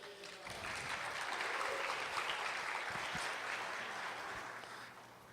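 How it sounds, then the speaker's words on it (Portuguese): A church crowd claps for João, a sustained round of applause that swells quickly, holds steady for several seconds and fades slightly at the end, heard from within the room. "Dá uma salva de palmas para o João."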